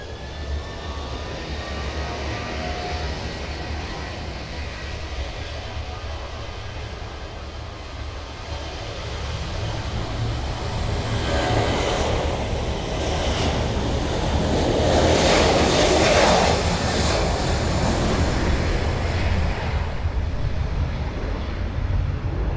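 A passenger jet takes off down runway 09 at East Midlands Airport bound for Gran Canaria, its engine roar building steadily from a distant rumble to a loud peak before easing as it climbs away, with wind noise.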